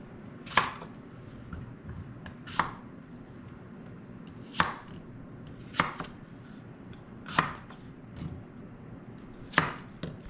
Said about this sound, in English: Again, cut our apples into quarters.